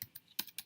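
Keys on a computer keyboard tap in a short burst of four or five crisp clicks, close and fairly quiet, with no voice.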